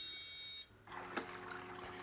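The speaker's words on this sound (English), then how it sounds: "We hear one beep and it will do one cleaning cycle." An Audio Desk Vinyl Cleaner Pro record-cleaning machine gives an electronic beep, then starts its cleaning cycle with a steady tonal hum and a watery swish, close and moderately quiet.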